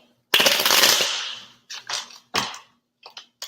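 A deck of tarot cards is shuffled: one long crackling riffle, then several shorter snapping bursts separated by brief silences, close and fairly loud.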